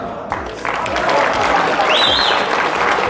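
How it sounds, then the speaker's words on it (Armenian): A family gathering in Martuni, Armenia breaks into warm applause for newlyweds, many hands clapping steadily and close after a quiet start, with a whistle-like tone rising briefly over the clapping. "Ծափեր տանք։"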